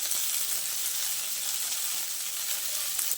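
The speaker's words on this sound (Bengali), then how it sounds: "বরবটিটা কিছুক্ষণ ভেজে নেওয়ার পর" Chopped yardlong beans and onion frying in a pan, a steady close hiss of sizzling oil with faint stirring scrapes throughout.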